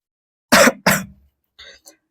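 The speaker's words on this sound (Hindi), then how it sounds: "जल्दी बोलने पर खांसी आ रही है" Two sharp, loud throat-clearing coughs from a maths teacher during a lesson, close to the microphone, followed by faint short breathy sounds in an otherwise quiet room.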